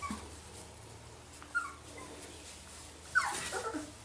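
Small puppies, four and a half weeks old, give a few faint whimpers and thin yips, scattered and soft against a quiet room, with one brief cry near the start and a fuller whine toward the end.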